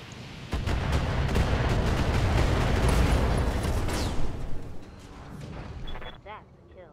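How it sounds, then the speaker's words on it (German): SRM ammunition cooks off in a BattleTech mech game, a loud rumbling explosion with weapon fire that holds for several seconds and then fades, with a voice speaking over it. "Okay, der SRM-Ammo ist explodiert."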